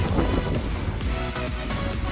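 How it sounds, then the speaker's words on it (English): Strong wind blows outdoors on rocky ground at an RC car bash, buffeting the microphone with a continuous low rumble and uneven gusts, and no voices are heard. "It's really windy."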